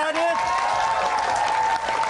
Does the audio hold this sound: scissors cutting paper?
no